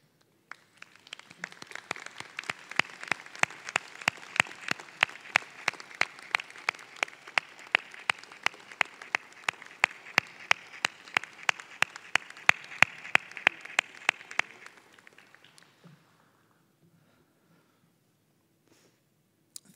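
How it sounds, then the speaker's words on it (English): An audience at a 2022 doctoral hooding ceremony for a graduate school of education applauds steadily for about fifteen seconds, with crisp individual claps standing out from the wash, before it stops abruptly into near silence. "please stand, turn around, and applaud those who are here today who helped you"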